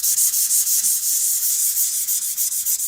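Light sanding across a painted background, a steady rhythmic rubbing scratch with regular back-and-forth strokes, close and fairly loud, with no talking.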